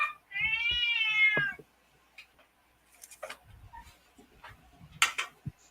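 A cat lets out one long, loud meow up close, followed by quiet clicks, rustles and a few sharp knocks.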